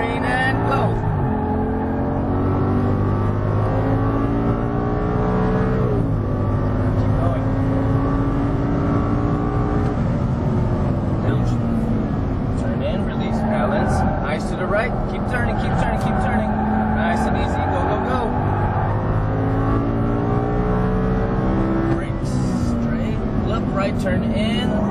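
An Audi R8 race car engine revs and roars continuously on a race track in Las Vegas, rising and falling in pitch through gear changes, with a voice speaking over it throughout.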